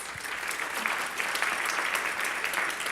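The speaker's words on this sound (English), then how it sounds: "maybe we could give her a round of applause" An audience at an anti-trafficking awareness event claps together in sustained, even applause, a dense wash of many hands with no break or talking over it.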